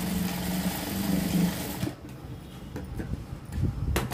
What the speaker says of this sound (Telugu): ఒక 1/2 ఇంచి కింద వైపున వదిలిపెట్టేసుకొని ఇలా అటు ఇటు బ్యాక్ సైడ్న కుట్టుకోవాలి